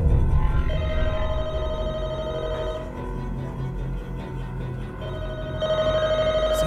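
A telephone rings in The Walking Dead Michonne video game, heard as a repeating electronic ring tone over a low, rumbling game ambience, moderately loud and steady.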